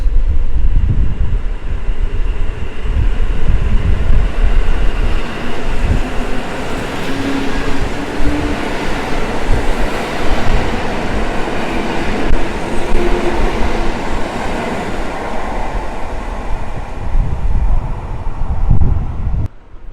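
A train pulls away from Warszawa Zachodnia station, a loud, continuous rumble of rolling wagons with faint rhythmic clatter and some wind buffeting the microphone, with no talk.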